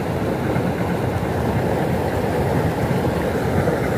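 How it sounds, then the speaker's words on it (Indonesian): A train rumbles past close by beside a fishing spot, a loud continuous roar of wheels and carriages with a faint rhythmic rattle. "Ah, itu keretanya lewat itu kan"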